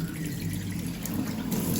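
Hot water from a boiler runs from a tap in a steady, even rush, continuous and moderately loud with a low hum beneath it.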